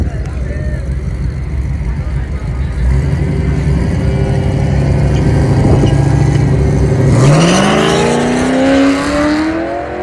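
Modified cars at a drag race near Chihuahua roar loudly, with a constant engine rumble building into a sharp revving sweep as one accelerates hard past, crowd noise underneath.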